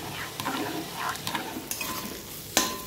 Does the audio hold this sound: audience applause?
no